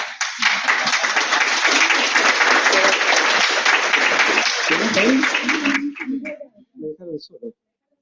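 An audience at a public talk or exhibition gathering bursts into loud, dense applause that holds steady for about six seconds, then cuts off abruptly, leaving a few brief spoken words at the end.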